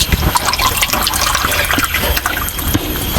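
Drinking water poured from a container, a steady bubbling, gurgling stream close by and fairly loud, with small splashes and drips and no talk over it.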